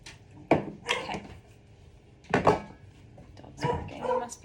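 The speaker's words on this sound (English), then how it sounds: "Dog's barking. There must be another dog outside." A dog barks in short bursts, three clusters of sharp woofs spaced a couple of seconds apart, sounding somewhat distant.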